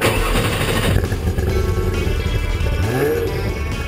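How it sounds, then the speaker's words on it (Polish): A Porsche race car engine started with the cockpit main switch and ignition, a low rumbling mechanical turnover building into a steady engine idle, loud and close, with a rising whine near the end. "To główny przełącznik i zapłon, których używamy do odpalenia silnika."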